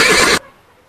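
A horse neighs in one short, loud, close burst that cuts off abruptly into near silence.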